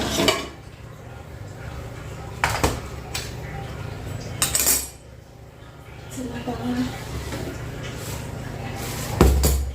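A metal container clattering and clinking in a kitchen, several distinct knocks and rattles spaced apart over background hum, with a voice speaking at moments.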